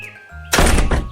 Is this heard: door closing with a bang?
yes